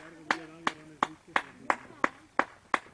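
Spectators beside a mountain marathon course clap in a slow, even rhythm, about nine sharp close claps spaced roughly a third of a second apart, with faint voices murmuring underneath.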